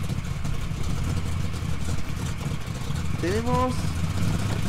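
An off-road junkyard truck's engine runs with a steady low rumble throughout, while someone speaks briefly over it near the end.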